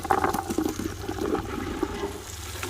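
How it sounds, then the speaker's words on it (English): Fresh garden green beans are tipped into a pot of cooked onions, giving a burst of sizzling, wet clattering and bubbling that settles into steady frying noise, close and fairly loud with no talk. "when we get to that point, it's time to add all of our beans"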